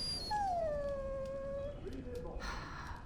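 A dog in the video game Dragon Age lets out a long, falling whimpering whine, close and clear, followed by softer whines and a brief rustle.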